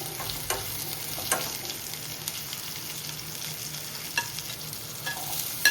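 Dried and green chillies fry in oil with a steady, close sizzle, broken by occasional stirring scrapes and small pops; no one speaks.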